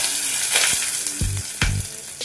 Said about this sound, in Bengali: তেল আমার গরম হয়ে গিয়েছে এবার আমি কিছুটা রসুন থেতো করে রেখেছিলাম সেগুলো দিয়ে নিলাম আর দেব দুটো তেজপাতা